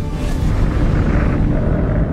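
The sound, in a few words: explosion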